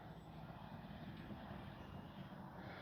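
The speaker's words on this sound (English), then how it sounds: "the plane can fly just fine without the battery hatch, as you can see" A Kavan Bristell B-23 RC model airplane flies overhead with its battery hatch blown off, a steady, fairly faint electric motor drone holding an even pitch for a few seconds.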